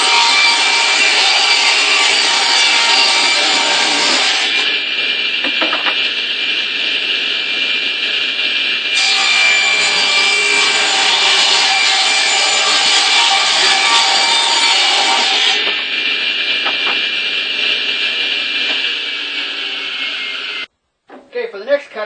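Table saw ripping a 4-inch strip from a wood board for a birdhouse, a loud steady blade whine with the pitch shifting as the board feeds through in several passes, then cutting off abruptly near the end.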